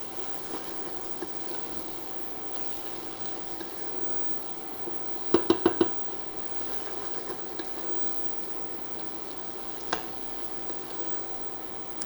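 Dried onion, garlic and coriander seeds cook in a pot, giving a faint, quiet sizzle that is broken by a short clatter of stirring midway and a single tap later.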